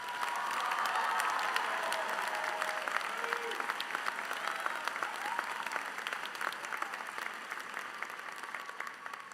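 A large audience at a university winter graduation ceremony claps steadily in a sustained, dense round of applause that fades slightly toward the end, with scattered cheers mixed in.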